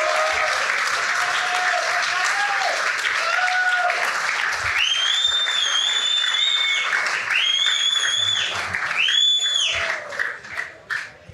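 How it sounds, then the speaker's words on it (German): Audience applause at a football club fan talk after a 1860 Munich versus Waldhof Mannheim match: dense, sustained clapping with whistles and cheers rising over it, tailing off toward the end. "Fabi Greilinger, dein Applaus."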